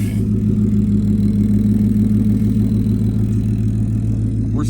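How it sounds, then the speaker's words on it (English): A Ford F-150 pickup with a twin turbo Coyote V8 and a DIY return fuel system drives on its first run, its engine a steady, loud, close drone that holds even throughout. "So the F-150 is out in the sun. She's driving for the first time."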